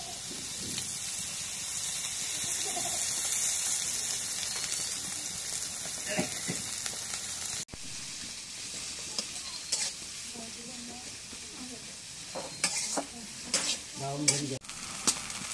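Pieces of food frying in oil in a pan at home, a steady close sizzle and hiss with stirring scrapes and clinks growing busier toward the end.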